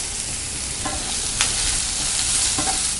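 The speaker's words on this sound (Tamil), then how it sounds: "ஒரு 30 செகண்ட்ஸ் நல்லா வதக்கிக்கலாம்." Capsicum and vegetables sizzle steadily as they are sautéed in a pan for egg fried rice, a constant hiss with a few soft scraping stirs and no talk.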